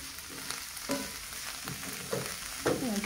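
Swiss chard sautés in a pan, a soft steady sizzle broken by brief scraping stirs of a utensil every half second or so, quiet and close with no talk.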